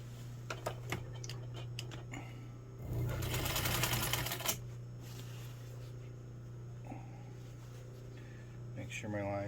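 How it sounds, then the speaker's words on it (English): A sewing machine stitches across a jeans waistband in one loud burst of rapid whirring lasting under two seconds, amid a steady electrical hum and scattered clicks. "And just sew across my line."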